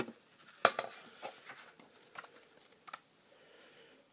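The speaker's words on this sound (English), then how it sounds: "That's probably one of the thickest art books I've ever seen. So a quick flip through here." Pages of a very thick Borderlands 2 art book flipped quickly, giving soft, close rustles and light papery slaps in a short run with no talk.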